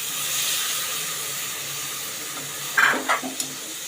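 Soaked val beans hit spices frying in hot oil in a pressure cooker, giving a loud, steady sizzle and hiss with several sharper spitting bursts toward the end.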